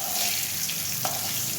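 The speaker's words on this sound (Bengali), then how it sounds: "একটু ব্রাউন ব্রাউন ভাজা হয়ে গেলে তখন তুলে নেবো আলুগুলো" Boiled potatoes fry in hot oil for a Bengali egg curry, giving a dense, steady close sizzle and crackle throughout a short stretch, with no talk.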